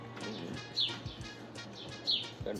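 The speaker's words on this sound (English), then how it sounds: "Excuse that bird chirping in the background." Outdoors near Lake Bled in Slovenia, a bird chirps faintly in the background. Two brief, high tweets stand apart over a steady low ambient hum, with no talking.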